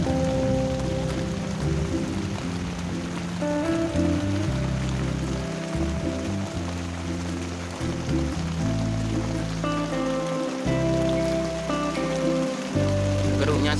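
Heavy rain falls steadily in a forest, a constant dense hiss. A low droning tone rises and falls beneath it throughout.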